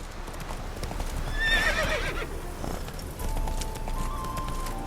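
Roach, a horse in The Witcher 3, gives a clear whinny partway through over a steady clip-clop of hooves on the ground, with a low ambient bed and faint tonal music entering near the end.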